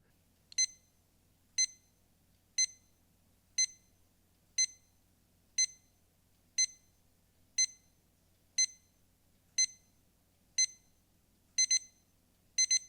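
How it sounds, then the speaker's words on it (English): A Sharp SPC932 atomic digital alarm clock beeps in short, regular bursts about once a second, with a few doubled beeps toward the end, alone in a quiet room. "the alarm increases in intensity a little bit, just a few beeps there"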